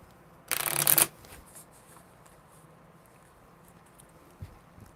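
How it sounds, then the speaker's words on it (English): Small mini tarot cards are riffle-shuffled in one brief, crisp burst lasting about half a second, close and loud, followed by quiet room tone and a faint tap. "shuffle."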